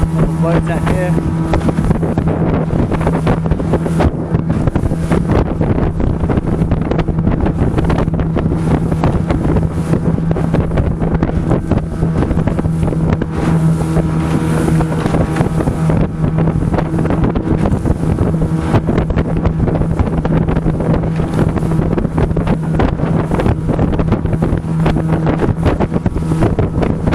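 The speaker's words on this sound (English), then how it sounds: "Couple boats out here." Motorboat engine droning steadily over open equatorial water near Ilhéu das Rolas off São Tomé, loud and continuous with heavy wind buffeting on the microphone and a voice speaking briefly over it.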